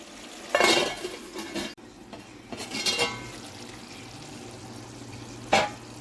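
A curry is stirred in a pot with a few sharp metal scrapes and clanks, followed by a single distinct clink as a lid is set on, close by with a soft simmer beneath.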